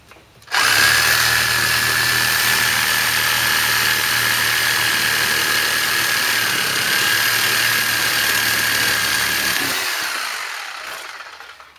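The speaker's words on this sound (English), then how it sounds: "So we're going to use the Sawzall here again." A Sawzall reciprocating saw cuts the motor off a Bally Miss America Supreme pinball machine, running loud and continuous for about nine seconds with a harsh metallic buzz before winding down and stopping.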